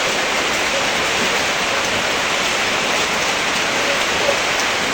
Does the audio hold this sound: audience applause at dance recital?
no